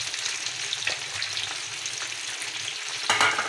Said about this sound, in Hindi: इनको हल्का सा हमें बस फ्राई करना है